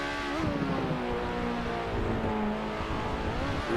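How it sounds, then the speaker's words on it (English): Lotus Exos 125 race car in Assetto Corsa held flat out in high gear around the Nordschleife, a loud, steady high-revving engine drone that runs unbroken throughout with no talk. "now completely flat out in 5th gear, switching to 6th gear here"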